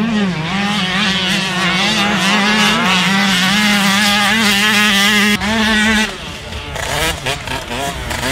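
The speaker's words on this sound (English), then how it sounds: "we have our very own Yamaha YZ125 two-stroke Ryan Villopoto replica" Yamaha YZ125 two-stroke motocross bike engine, a loud nearby buzzing drone that rises and falls in pitch with revs, then cuts and restarts briefly before settling into rougher, lower idling.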